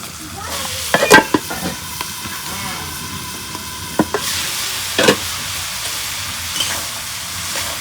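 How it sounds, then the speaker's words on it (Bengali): Eggplant fries in spiced masala for a mola fish curry, with a steady sizzle under sharp scraping strokes of a spatula against the pan at irregular intervals, close and fairly loud, with no voices. "এখন আমি বেগুন দিয়ে দিই।"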